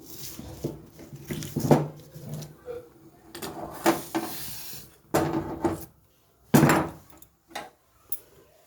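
A pot is lifted off the stove and a wok set down in its place, with several knocks and metallic clunks spaced out between quieter moments and some brief handling noise.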